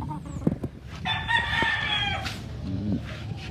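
A gamefowl rooster on a Philippine breeder's farm gives one clear, loud crow in the middle, with softer clucks and faint farmyard sounds before and after.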